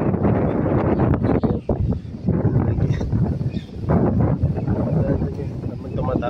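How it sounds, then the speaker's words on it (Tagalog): Strong wind gusts roar against the microphone and rustle nearby trees in surges, under someone talking. "yung lakas ng hangin medyo nabawasan pa yan"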